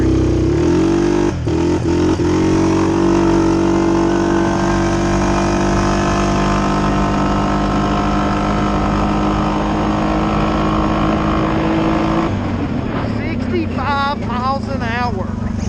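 A 2020 Suzuki KingQuad 750 ATV engine accelerates on a straightaway with a loud, close, sustained drone. The engine note shifts near the end as voices briefly break in.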